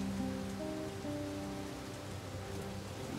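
Steady rain falls in a fantasy role-playing game set in The Dark Eye world, a dense, even hiss of drops pattering on surfaces, continuous and moderately loud, with a faint low hum underneath.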